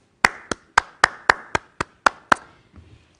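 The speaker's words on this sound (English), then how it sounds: "I want you to clap your hands." Eight sharp hand claps in an even, steady rhythm, close and distinct, with each slap ringing briefly before the next, and nothing after the last one.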